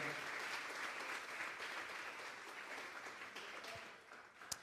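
A church congregation claps together during a Sunday service, a dense sustained round of applause that slowly thins toward the end, with one sharp knock just before it stops.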